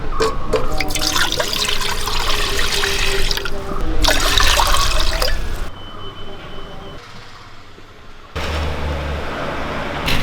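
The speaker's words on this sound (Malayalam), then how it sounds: "ഇനി അതിന് വേണ്ടിയുള്ള ഉപ്പുവെള്ളം നമുക്ക് റെഡിയാക്കി എടുക്കാം വെള്ളം ഒഴിച്ചു കൊടുക്കാം" Water pours into a pot to make salted brine for carrot pickle, a loud splashing rush that stops and starts in bursts with quieter pauses between.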